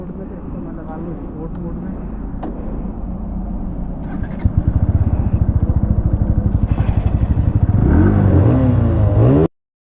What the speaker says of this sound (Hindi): सबसे पहले मैं चलाऊँगा आपकी बजाज की NS